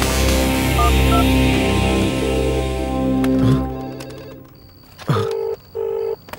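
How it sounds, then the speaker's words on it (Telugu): A mobile phone ringing nearby, with a dense musical ringtone that cuts off, then two short electronic tone bursts after a pause; no talk. "అవును, ఇక్కడే ఇక్కడ పక్కన రింగ్ అవుతుంది."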